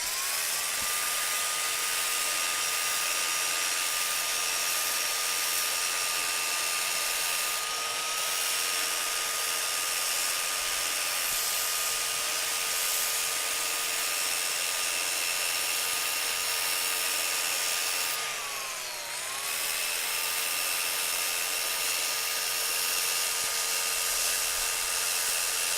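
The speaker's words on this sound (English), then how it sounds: "I'm going to hold this pad again, probably like right at 90 degrees, and I'm going to sand that off first" Power sander with its pad held at about 90 degrees, running at a steady high whine with a constant broadband hiss for the whole stretch, dipping briefly in pitch once under load, loud and close with no talking.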